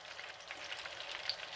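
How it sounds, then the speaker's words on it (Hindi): Hot oil is poured over mutton nargisi kofte, giving a faint, soft sizzling crackle for a brief moment, quiet and alone with no voices. "ऐसे गरम ऑयल इनके ऊपर डालेंगे"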